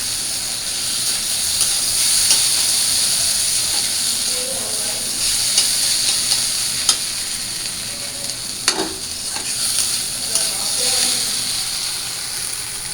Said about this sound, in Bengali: আর এখানে করছি ঢেঁড়স ভাজি।